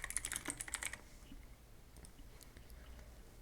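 Close, quiet keyboard typing: a short burst of rapid clicking keystrokes, then near silence with faint room noise.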